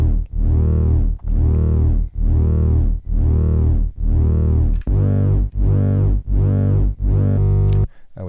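A sine wave synth run through foldback and drive distortion pulses in eight rhythmic, buzzy swells, each rising and falling in brightness, loud and alone with no talking.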